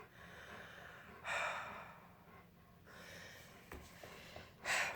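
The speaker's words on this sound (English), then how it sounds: "Now she's breathing heavily." Peggotty the pet breathing heavily nearby, soft airy snorts and sighs with a couple of louder huffs amid faint background hiss.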